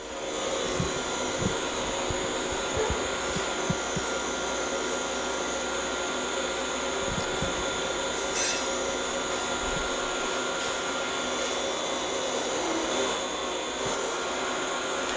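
Load lock vacuum pump on a Lesker sputter tool runs alone as a loud, steady, continuous whir with a faint high whine, holding evenly throughout.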